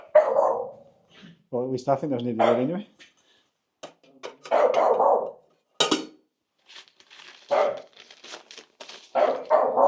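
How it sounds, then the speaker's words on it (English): A dog barks several times in short bursts, close by at a mountain bothy on a freezing night, while a person talks in between the barks. "what are you barking at?"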